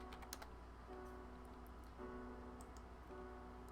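Close, quiet typing on a computer keyboard in a room, a brisk run of soft key clicks with short pauses between bursts, alone over a faint steady hum.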